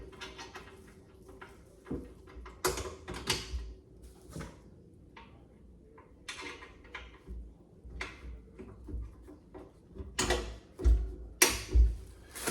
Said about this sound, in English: We drop these pins back in here so that they holds that hinge back on.